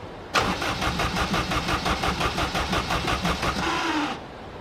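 A Honda engine cranks and turns over loudly with rapid, even pulsing for about four seconds, then cuts off abruptly.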